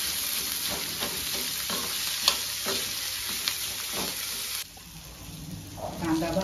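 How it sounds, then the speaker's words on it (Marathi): Onion frying in a pan for home-cooked mutton curry, a steady close sizzle with repeated scraping stirs of a spatula, the sizzle dropping quieter near the end before a few more stirs. "कांदा भाजून घ्यायचा."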